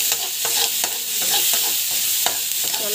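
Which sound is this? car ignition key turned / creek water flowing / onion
onion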